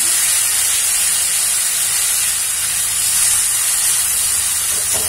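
Ground onion, tomato and cashew paste sizzles loudly in hot oil with spices, a steady broadband hiss sustained throughout with slight swells.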